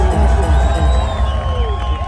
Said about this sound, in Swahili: Sikia Churchill makofi.